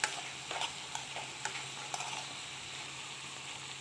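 Tender, small whole okra picked from a backyard cooks in a pan, giving a quiet, continuous sizzle broken by several light clicks and scrapes of stirring.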